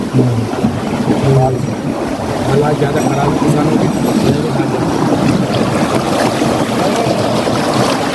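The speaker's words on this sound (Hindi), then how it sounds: "आज हम इतने पानी में गुजर के जा रहे हैं" Someone wades through floodwater across flooded farmland near Rampur, Uttarakhand, with continuous sloshing and swishing of water close by while someone talks over it.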